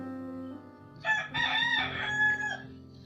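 A single rooster crows nearby, a long rising and falling call over a steady background hum.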